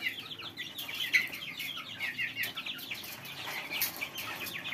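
Baladi chickens and roosters cluck and chatter in a busy, overlapping chorus, many birds close by with continuous rapid calls and no one talking.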